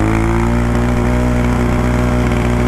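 A Honda Grom motorcycle on stock gearing holds high revs at roughly 45–50 mph, its single-cylinder engine a loud, steady, buzzing drone with no pause and no talk over it.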